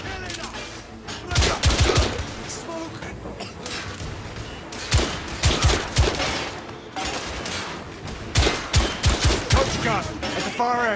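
Coach gun gunfire in The Order: 1886 video game: several loud, close bursts of sharp shotgun blasts in quick clusters, separated by short quieter stretches of combat ambience.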